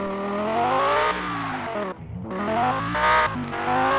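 A race car in a mobile stunt racing game revs hard with tire squeal, a loud continuous engine whine with pitch sweeps, a brief drop, then full-throttle roaring again.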